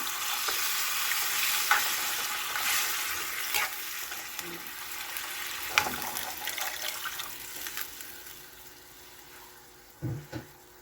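Broth poured into a hot pan of sautéed smoked galunggong and sweet potato, a continuous hissing, sizzling wash with a few utensil clinks, a brief louder splash near the end.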